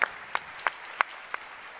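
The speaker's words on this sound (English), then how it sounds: "I guess you needed a round of applause for that" At a climate action summit session, a few scattered hand claps ring out one by one, about five sharp, evenly spaced smacks over a quiet background rather than full applause.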